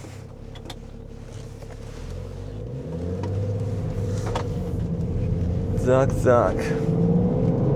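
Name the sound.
BMW X5 twin-turbo diesel car driving off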